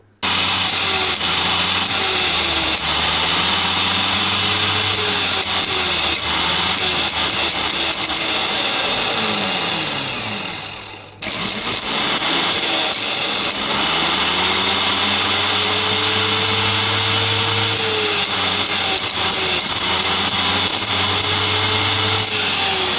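A faulty new BMW starter motor, bridged by hand, whirs and grinds loudly in two long continuous bursts split by a brief pause halfway through.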